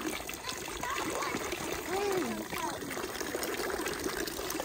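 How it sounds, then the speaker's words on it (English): Drinkable water runs and trickles from an outdoor source in Switzerland, a soft, continuous splashing with faint background voices. "People told me here that this water is drinkable."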